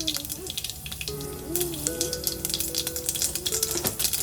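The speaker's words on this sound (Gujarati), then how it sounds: "રાઈ ફૂટી જાય પછી એમાં જીરું નાખીશું." Mustard seeds, added after fenugreek seeds, popping and crackling in hot oil for a potato curry, a close run of small irregular pops over a soft sizzle, with faint tonal sounds in the background and no clear talk.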